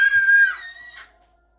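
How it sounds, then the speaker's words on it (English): Young girls scream in a home kitchen, a shrill, piercing outburst that holds for about half a second and then trails off into fading, wavering cries before silence. "my girls are screaming and no one wants to listen to that"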